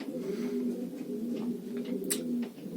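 Soft, low pigeon cooing rolls on steadily, close by, with faint rustling and small scratchy sounds behind it.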